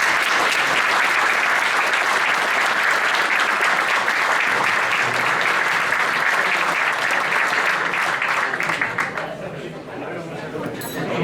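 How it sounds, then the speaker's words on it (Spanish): Loud, sustained audience applause for visiting guests at a public event in Mar del Plata, with crowd chatter mixed in; the clapping thins out and fades near the end. "Pido nuevamente un aplauso para los visitantes."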